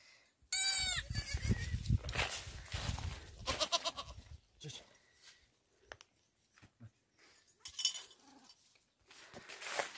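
Young sheep and goat kids penned while the adult flock is out grazing bleat loudly and close in overlapping cries at the start, followed by scattered bleats and shuffling noises.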